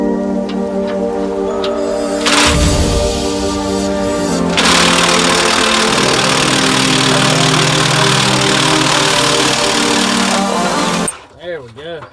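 Large impact wrench working a Miata exhaust bolt during an ISR exhaust install, a loud sustained buzzing rattle with brief bursts and pitch shifts, nearly continuous, trailing off at the end.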